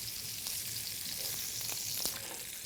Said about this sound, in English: So now the second round, the pan is hotter, so the sear is going faster.